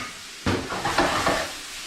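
Garlic and chopped vegetables sweating gently in a pan for a Tuscan quail dish, a steady soft sizzle with a few stirring scrapes, close and moderately loud with no talking.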